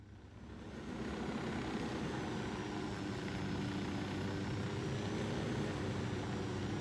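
A helicopter in Ghost Recon Wildlands drones steadily with a dense, continuous rotor and engine roar that swells in over the first second, then holds loud and even, with no voices.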